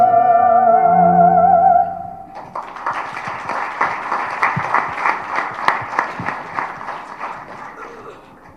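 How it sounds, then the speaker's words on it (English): An audience at an app launch event for a parenting app applauds after music fades out, steady clapping building and continuing for several seconds at moderate loudness. "I think that deserves a bigger round of applause"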